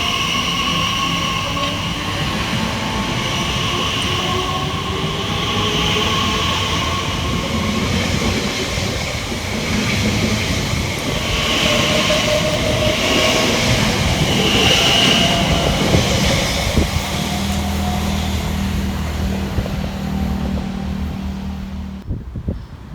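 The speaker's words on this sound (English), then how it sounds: "next out to depart will be 345020, working the 1021 Elizabeth line service from London Paddington through to Shenfield" A Class 345 Elizabeth line train pulls out of a station, its low electric drone and wheel rumble building and holding steady for over twenty seconds, with faint squeals and clatter before the sound drops away at the end.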